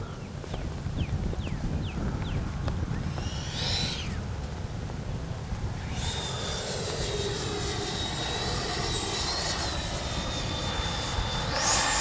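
A Freewing 90mm F-22 radio-controlled jet flying overhead, with a loud ducted-fan whine that rises and falls as it passes, a steady turbine-like roar filling the second half under outdoor wind noise.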